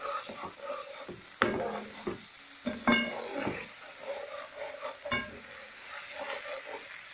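A spoon stirs salt and vegetable masala into an egg curry in a pan. Irregular scraping and clinking strokes sound close over a soft sizzle.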